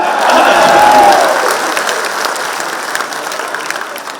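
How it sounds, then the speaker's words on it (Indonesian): A crowd at a political gathering for the PKB chairman applauds, loud sustained clapping with a faint cheer near the start, slowly thinning toward the end. "Bung Dasko, kita berikan tepuk tangan."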